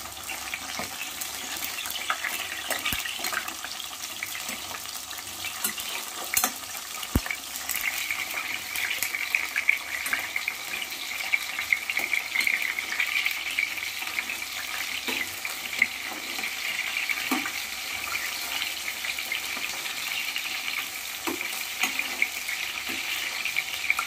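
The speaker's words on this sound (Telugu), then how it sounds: "ఇలా వేగేటప్పుడు మనం వేసిన వంకాయ ఇలా వేగుతున్నప్పుడు ఇలా చిట్లిపోతుంది" Chopped eggplant fries in a pan for a tamarind-style vankaya dish, giving a steady, close sizzle with scattered small pops and crackles that run throughout without any talking.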